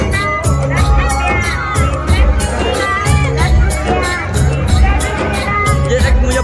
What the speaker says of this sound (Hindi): तो आप लोग देख सकते हैं कि मेला में कितना भीड़ हो रहा है।